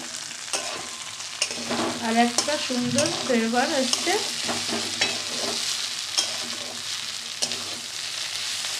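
Flat beans and shrimp fry and get stirred in hot oil, a steady sizzle broken by scraping stirs near the pan, while a voice talks briefly over the cooking.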